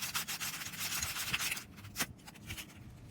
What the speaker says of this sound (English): Then take some 60 or 80 grit sandpaper and clean out the inside.